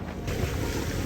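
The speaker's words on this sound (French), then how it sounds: "La force des vagues et du vent est impressionnante." Wind and ocean waves roar steadily around a solo ocean racing sailboat in the Vendée Globe, with dense broadband rushing and low hull-and-water rumble, loud and constant with no voices.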